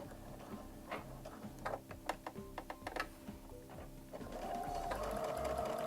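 Domestic sewing machine stitching fabric for a small pocket bunny toy, first in short slow bursts of a few stitches, then running into a steady continuous straight seam.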